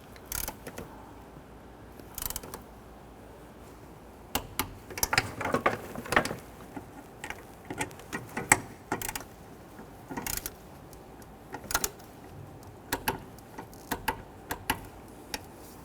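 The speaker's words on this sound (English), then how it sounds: "I'm going to torque down the nuts from the master cylinder to the booster." Ratcheting torque wrench clicks in irregular bursts, close and fairly quiet, as nuts are tightened between a brake master cylinder and booster on a Honda Ridgeline.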